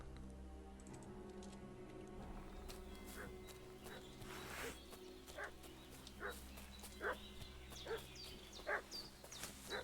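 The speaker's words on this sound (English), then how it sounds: "Dog's barking." Inside the medieval video game Kingdom Come: Deliverance 2, a dog barks repeatedly in the distance, a run of faint, evenly spaced barks that grow a little louder toward the end over a low steady background hum.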